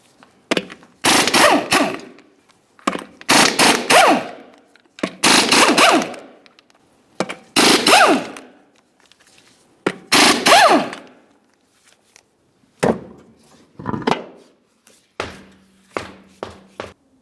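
An impact wrench spins off 22mm lug nuts from the wheel of a 2005-2010 Dodge Dakota, firing loud close bursts of rattling hammering, roughly a second each with short pauses, then briefer clatters of loose nuts and parts.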